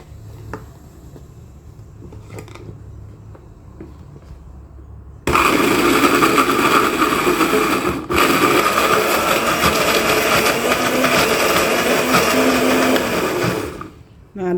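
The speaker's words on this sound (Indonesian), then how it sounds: "Kita masukkan ebi, terus kita blender." A kitchen blender roars loudly and steadily, grinding dried shrimp (ebi) for a multipurpose spice paste, starting abruptly after a quieter stretch and running for several seconds before cutting off.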